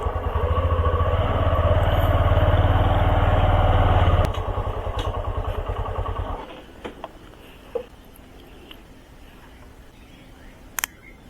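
Rapido bike taxi motorcycle running in the rain, steady loud engine drone for several seconds that cuts off sharply, leaving a quiet stretch with a few scattered clicks and knocks.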